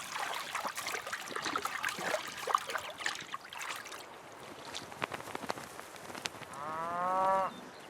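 Cattle low in a wild northern German pasture landscape among cows and horses, with scattered moos through the clip and one long, clear harmonic moo near the end over soft ambient water and outdoor noise.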